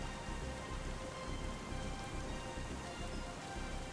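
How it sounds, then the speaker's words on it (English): Heavy rain in the farming game Farming Simulator 25, a dense continuous steady downpour hiss with a low rumble beneath, even and unbroken throughout. "That sounds like a lot of rain."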